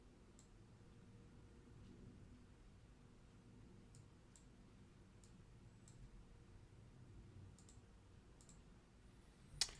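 A computer mouse gives sparse, faint, sharp single clicks, spaced irregularly over a quiet low hum, with one louder click at the end.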